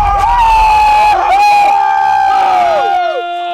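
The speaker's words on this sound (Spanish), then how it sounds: "Parece lindo gritar así, ¿no? Con toda la garra, con toda la energía." A crowd of people shouts and cheers loudly together beneath a long road bridge in Uruguay, a sustained, echoing roar that holds for about three seconds before fading to a single lingering voice.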